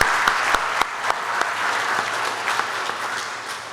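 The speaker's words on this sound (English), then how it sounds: "So please let's give them a round of applause." An audience applauds, with a thick bed of clapping and a few sharp, close individual claps standing out near the start.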